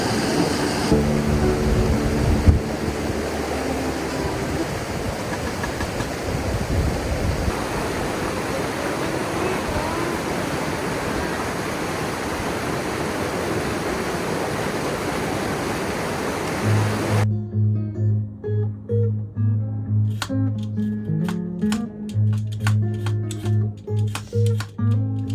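Flowing river water at an off-grid mountain spot, a broad, steady rushing wash heard up close for most of the stretch, then cut off by quieter, unrelated rhythmic sounds.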